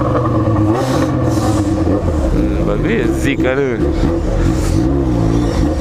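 A Yamaha XJ6 motorcycle engine revs while riding, a continuous loud throaty drone with pitch sweeps rising and falling, heard close up over wind, with someone talking over it.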